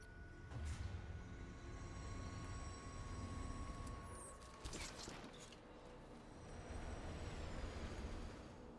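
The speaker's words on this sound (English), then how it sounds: "Let's move this prisoner train forward." A prisoner train rolls forward in a video game, a steady low mechanical rumble with rail clatter holding at moderate level throughout, joined by a brief sharper screech near the middle.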